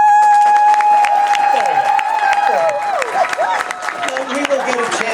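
Loud applause and whooping cheers from a hypnosis show audience, with tonal shouts and babble layered over the clapping, close and energetic throughout.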